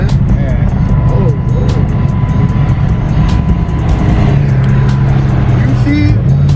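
A Lamborghini Huracan with an aftermarket exhaust roars loud and close at a crowded gas station car meet, its engine note sustained and rising throughout, with voices in the background.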